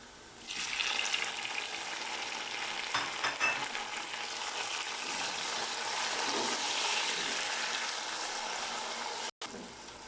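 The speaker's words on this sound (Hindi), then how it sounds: "अब इसमें मैं टमाटर डाल दूँगा" Tomatoes hit browned onions frying in a pan for mutton kofta dum biryani, setting off a loud, steady, close-up sizzle with a few stirring scrapes, then a brief dropout before the hiss resumes. No one speaks.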